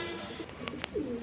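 A Shahjahanpuri breed pigeon gives a short, soft coo close by, with a couple of faint clicks and flutters before it and no talking.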